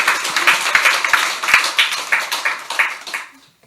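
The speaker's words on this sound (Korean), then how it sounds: "우리 경례 박수 한번 할까요?" Church worship congregation clapping after a choir hymn, a loud steady run of many hands with a few sharp distinct claps, fading out at the end.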